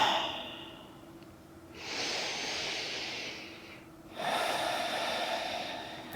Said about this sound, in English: Just take a couple of breaths.